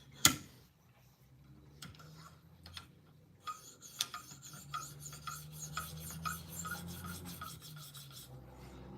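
A Spyderco Native Chief knife with M4 steel has its bevel sharpened, heard as quiet, close, rhythmic rasping strokes against the stone that grow steadier and ticking in pace, with one sharp tap at the start and no speech.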